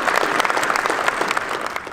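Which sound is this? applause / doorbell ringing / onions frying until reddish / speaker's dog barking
applause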